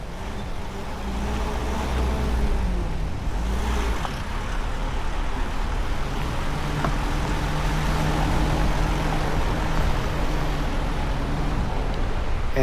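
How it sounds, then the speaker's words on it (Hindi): Road traffic on a rough high mountain road between Padum and Leh via Nimmo in Zanskar, with engines idling and droning nearby, a steady mid-level rumble that continues without pause and carries no speech. "उधर से भी ट्रैफिक आ गया ना"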